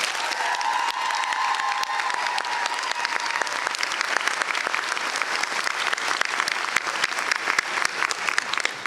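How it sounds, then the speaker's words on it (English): A large commencement audience of graduates and guests applauds their professors in a steady, dense round of clapping that carries on at full volume for about nine seconds, with a brief voice over the start. "applause."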